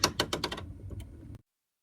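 A sewing machine runs a zigzag stitch along the seam of a fabric surgical cap, a quick, even burst of close mechanical ticking that stops abruptly after about a second and a half.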